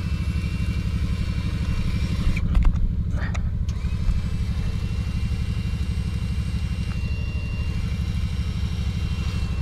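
A Can-Am Maverick Turbo four-seat UTV engine idles with a steady low drone and faint clatter nearby, broken briefly by a few sharp knocks.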